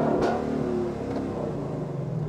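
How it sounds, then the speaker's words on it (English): Revving V8 engine of a 2022 Lexus LC500 convertible, a loud rumbling rev that swells in the first second and settles into a steady idle, heard alone without talk. "Should I give it a rev?"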